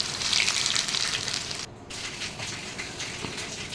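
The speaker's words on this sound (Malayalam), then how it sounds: "പിന്നെ ഒരു പാൻ എടുത്ത് അതിൽ എണ്ണ വെച്ച് ചൂടായി കഴിഞ്ഞാൽ ഇതേപോലെ ഇട്ട് പൊരിച്ചെടുക്കാം" Bread-crumb coated snacks fry in hot oil in a pan, giving a steady, close sizzling hiss that dips briefly partway through and then carries on, with no voices.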